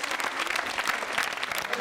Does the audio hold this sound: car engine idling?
no